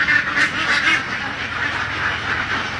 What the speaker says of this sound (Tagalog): Yan, mga poultry natin na itik yan.